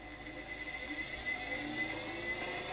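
An electric motor shaft spins on a test rig, producing a steady, faint high-pitched whine and whir with a constant drone and no clear changes.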